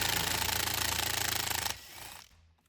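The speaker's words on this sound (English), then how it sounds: "Remember, when you're using little cordless impacts and stuff, put it on the low setting." A small cordless impact driver backs T30 bolts out of a Ford F-150 rear seat, giving a loud, close, rapid hammering burst for almost two seconds that stops abruptly and fades away.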